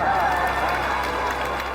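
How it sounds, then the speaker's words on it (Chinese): A studio audience at a debate show breaks into steady, dense applause mixed with cheering, loud and continuous throughout. "你骂男人的时候全场欢声雷动"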